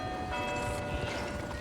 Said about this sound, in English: the trumpeting and the friggin' alarm bells